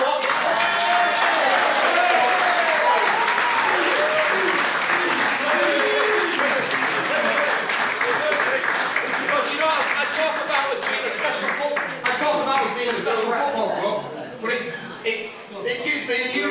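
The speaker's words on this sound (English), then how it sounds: "I'd just like to say a round of applause for Tommy." An audience at a football club presentation evening gives sustained applause, dense clapping that holds steady and then thins toward the end, with voices talking underneath.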